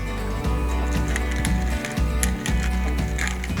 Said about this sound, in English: season that with a little pinch of salt and some freshly ground black pepper